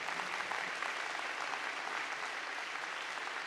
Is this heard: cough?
no